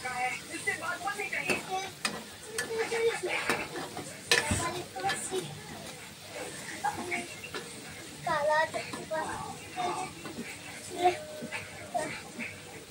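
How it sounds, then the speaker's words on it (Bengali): Onion, garlic, ginger, green chili and tomato fry and get stirred in a pan, with a steady sizzle broken by scraping and clinks of the utensil, and occasional voices in the background. "দেখতে পাচ্ছ পেঁয়াজ, রসুন, আদা, কাঁচামরিচ, টমেটো সবকিছু ফ্রাই হয়ে গেছে।"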